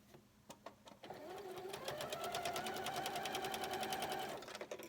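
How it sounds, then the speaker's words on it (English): A sewing machine stitches quilt pieces in a steady rapid rhythm for several seconds after a few clicks, close by and fairly quiet. "I'm going to bring them to my sewing machine and sew them."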